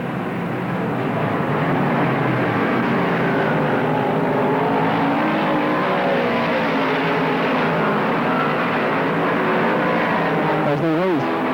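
Modified race cars circling the track at Tri City Raceway Park, a steady loud roar of several engines blending together, with one car passing close near the end.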